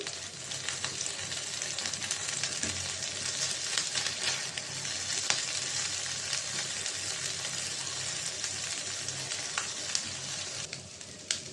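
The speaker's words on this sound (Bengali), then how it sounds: "মাছটা আমি হালকা ভাজা দিব" Steady, dense sizzling of mixed small fish frying in hot oil in a pan, loud and continuous with faint crackles throughout.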